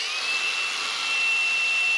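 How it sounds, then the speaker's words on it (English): A Sawzall reciprocating saw cuts into a 1992 Dodge Colt, making a loud, steady, rasping mechanical buzz that runs unbroken for the whole stretch, close by and with no talking. "just get the sawzall out,"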